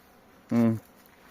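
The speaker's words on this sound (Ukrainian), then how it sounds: "Зараз хочу переселити ще один невеличкий рій." A small swarm of bees being moved to a new hive buzzes in one short, fairly loud burst lasting about a third of a second, then falls back to near quiet.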